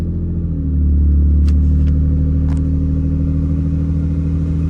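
An engine catches and settles into a loud, steady idling rumble right up close, its low drone holding firm with a few faint clicks over the top.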